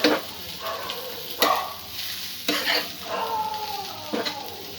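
Potato and sweet corn curry stirred in a pan: a spoon scrapes in several distinct strokes over a steady close sizzle, with no talking.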